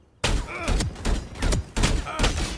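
Gunfire in the video game FragPunk: loud, close bursts of rapid shots in several separate volleys with short pauses between, sharp attacks and ringing tails.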